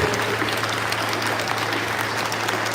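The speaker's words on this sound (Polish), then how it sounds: "Wielkie brawa." Steady applause from an audience at a live event with a band, dense continuous clapping holding even and fairly loud throughout.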